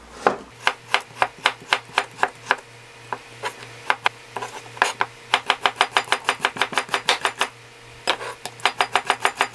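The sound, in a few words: knife slicing pickled altari radish thinly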